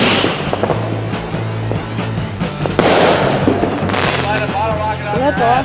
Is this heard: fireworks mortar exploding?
yes